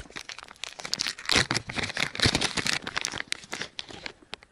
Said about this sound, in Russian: Так, я тут в пакетике-то пошарился.